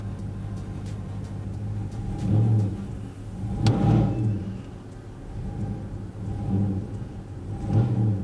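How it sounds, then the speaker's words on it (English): A Texas Speed Stage 4 Chevrolet Silverado truck with a 5.3 engine and a broken motor mount idles with a steady low rumble, swelling briefly in a few soft surges. "Truck's idling good right now."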